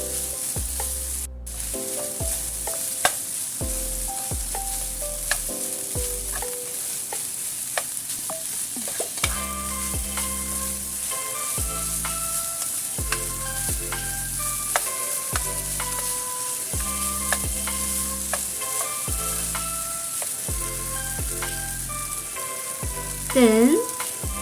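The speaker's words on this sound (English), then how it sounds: "Then we stir fry the mixture about" Turmeric chicken mixture with onions stir-fried in a pan, steady sizzling throughout under repeated scraping and stirring strokes of a utensil against the pan, close and fairly loud, with no talking.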